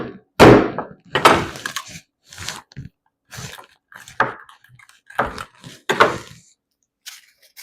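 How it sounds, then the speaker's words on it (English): A knife and hands work through the back of a raw turkey, making a series of loud, close thunks, cracks and crunchy breaking sounds in irregular bursts separated by short silences. "This back I'm going to have to cut in too."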